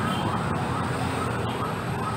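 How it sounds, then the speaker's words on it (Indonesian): An ambulance siren sounds steadily and fairly loud beside a busy street near a closed Giant supermarket, with a dense wash of traffic noise and no talk. "keluar lagi tuh ambulan."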